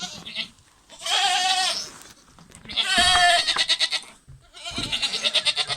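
Several goats penned on a farm bleat in loud, wavering calls, three or four overlapping cries close by, with one ending in a rapid stuttering bleat.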